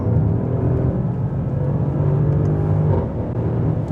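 A Mercedes GLE 63 AMG engine pulls hard under acceleration, a loud, continuous deep rumble and whir heard from inside the car with no talk over it.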